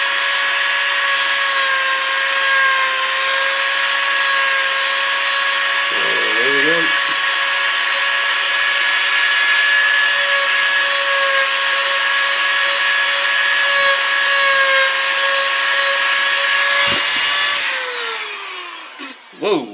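A power tool whines loudly and steadily while grinding or sanding a wooden bow limb, the tone holding for most of the stretch before winding down with a brief scrape near the end.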